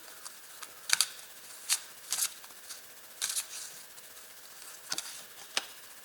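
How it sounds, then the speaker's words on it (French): Tarot cards being shuffled and laid down make soft, scattered papery flicks and taps, faint and close, with no talking. "Alors, je rajoute les cartes."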